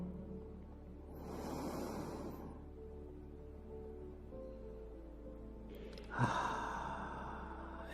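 A slow, deep guided inhale drawn through the nose and mouth, with a second breath starting near the end; soft, close and unaccompanied by talk.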